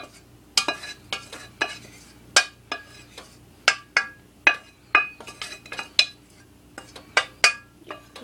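Repeated sharp clinks and scrapes of a utensil against a bowl, irregular strokes close up with brief quiet gaps in between.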